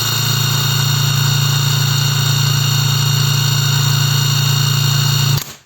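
A SHIDOKU G-1000 cordless 1000 Nm impact wrench spins freely at maximum revolutions on its second speed, giving a loud, steady, close motor whine with no impacts that cuts off sharply near the end.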